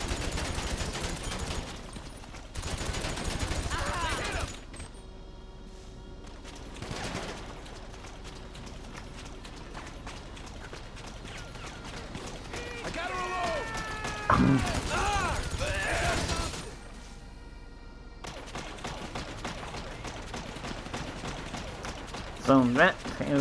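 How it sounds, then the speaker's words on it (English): Bursts of gunfire from a drone bot shooting at the player in GTA Online, rapid fusillades repeating through the stretch with mechanical in-game ambience between them. "So that is the sound of the drone bot shooting at you."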